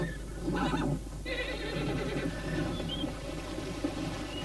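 A horse gives a short whinny near the start, heard over a steady, constant background hiss, then only the background continues.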